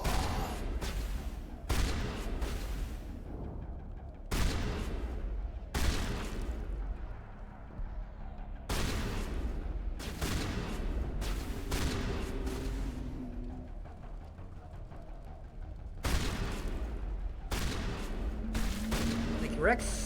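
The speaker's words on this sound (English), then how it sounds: "Tally, what the fuck are you doing with an assault rifle?" Assault rifle fire in the video game Mass Effect, as Tali shoots during a squad fight: a string of short, sharp bursts spaced irregularly over twenty seconds, with voices and game sounds between the shots.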